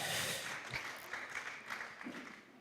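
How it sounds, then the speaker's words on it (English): Applause from a small open mic audience, a faint, thin patter of clapping that fades out over a couple of seconds. "So round of applause for you, man."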